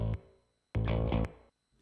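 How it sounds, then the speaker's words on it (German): A bass guitar played through a bass amp with analog Dynacord DRP16 spring-style reverb: two short, loud, full-bodied notes, each trailing off in a soft hall tail before silence. "Ihr hört, der Bass hat einen leichten Hall."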